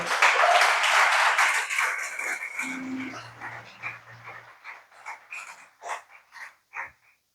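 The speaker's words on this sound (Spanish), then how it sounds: "Denle un aplauso al Señor." A church congregation applauds after a sermon, a burst of loud clapping that quickly thins into scattered, separate claps and then fades out.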